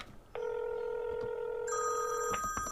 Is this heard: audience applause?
no